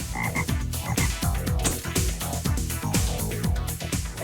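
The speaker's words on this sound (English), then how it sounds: "If you live near the water, then you might hear a lot of frogs croaking." A chorus of frogs croaks near water, dense and loud, with deep overlapping calls repeating in rapid rhythm with no pause and no talking over them.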